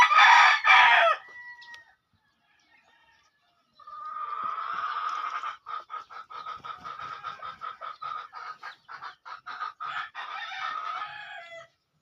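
Chickens cluck and crow in short bursts near a chick with a swollen eye, first a brief loud call, then a long run of rapid, close clucking and chirping after a pause.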